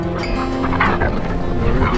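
Dogs on a winter hike bark and yip excitedly in a dense, close, continuous chorus, with whimpers mixed in over a steady background.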